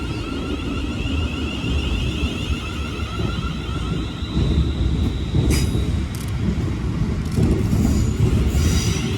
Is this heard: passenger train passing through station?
yes